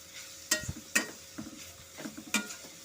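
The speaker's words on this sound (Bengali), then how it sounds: "তেল ঘিয়ের সাথে ভালো মতো করে গাজরটা একটু ভাজা ভাজা করে নেব।" Grated carrot frying in oil and ghee after whole garam masala has been tempered, heard as soft sizzling with several sharp stirring scrapes in the pan, fairly close and without talk.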